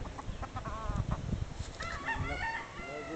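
A fighting cock crows nearby, its drawn-out, wavering call rising and falling across the short stretch, with some faint clucking and background noise underneath.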